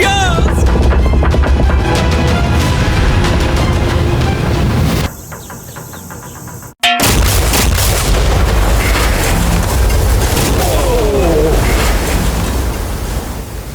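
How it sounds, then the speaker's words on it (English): A huge blast destroys an RC boat out at sea, a loud booming explosion that cuts off abruptly mid-roar, followed after a brief gap by rushing debris and churning water noise that slowly fades. "This explosion is going to be massive."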